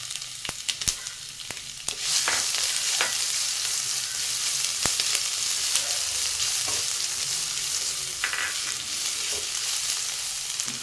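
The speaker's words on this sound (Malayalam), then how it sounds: "ഇനി നമുക്കിതിലോട്ട് ഇഞ്ചി വെളുത്തുള്ളി ചതച്ച് വെച്ചത്" Crushed ginger and garlic sizzle steadily in hot oil with popped mustard seeds, a loud continuous fry with occasional stirring clicks, no talk.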